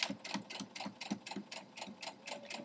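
A sewing machine back stitches a sawtooth star quilt block, its needle clattering in a steady, quick, even rhythm, close and fairly quiet.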